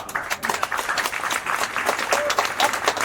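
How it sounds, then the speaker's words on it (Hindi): Applause from a quiz show audience, a dense burst of clapping throughout, with faint talking underneath. "इनके लिए तालियां बजाया जाए"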